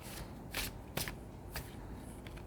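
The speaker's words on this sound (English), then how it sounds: "So I will pull 3 cards and then I will pull 1 affirmation card to close this reading." Tarot cards are pulled from a deck in a card reading, giving three or four soft papery riffles and slides at a close, quiet level with no voices.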